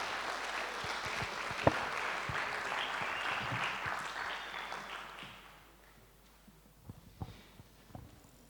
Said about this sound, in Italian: Allora, congediamo con un applauso ancora una volta Federico, Andrea, Simone, Luigi e David.